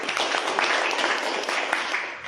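An audience at a company event honouring its MD and CMD breaks into dense, continuous applause: a steady wash of many hands clapping at once, sustained at even volume throughout.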